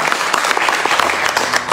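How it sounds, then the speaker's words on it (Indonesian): A church congregation bursts into brief, dense applause during a Sunday service, many hands clapping together in a loud, even patter. "Boleh kita beri tepuk tangan yang terbaik."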